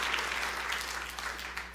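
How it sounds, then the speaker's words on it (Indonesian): A church congregation gives a brief burst of steady applause during a sermon. The dense, even clapping fills the space at moderate volume. "Tepuk tangan yang meriah untuk kemuliaan nama Tuhan"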